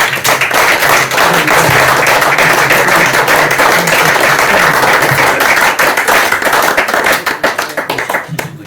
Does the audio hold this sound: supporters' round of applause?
yes